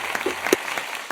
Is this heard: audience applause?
yes